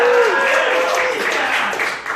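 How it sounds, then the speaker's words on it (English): Comedy club audience clapping and cheering in a steady, fairly loud wash of applause that fades slightly toward the end, with no talking over it. "Thank you for clapping"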